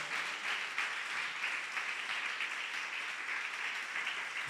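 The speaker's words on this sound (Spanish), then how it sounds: "Podría darle palmas esta mañana a Jesucristo." A church congregation applauding for Jesus, steady dense clapping from many hands filling the room without a break, with no voices over it.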